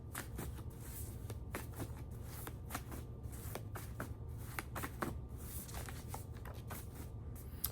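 A deck of cards is handled and shuffled up close, with quick, crisp riffling flutters and soft slaps repeating in uneven bursts at low volume, and no one speaking.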